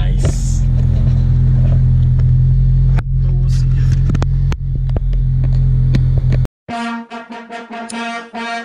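A 2001 Toyota Celica GTS rumbles along while being driven, a loud steady low engine drone with road noise and thumps, then a short cut to a different scene with music-like tones near the end.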